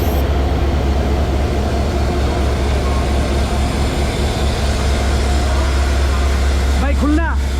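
Steady, loud rumble fills the carriage of the Jahanabad Express as it travels at night toward Khulna, a continuous low roar of wheels and engine, with a brief squealing sweep near the end.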